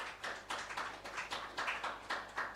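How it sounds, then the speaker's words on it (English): A small group claps in a slow, steady rhythm of about nine beats, the claps faint and distant, with no voices over them, at the Decode Benin event. "Let's please applaud her once again"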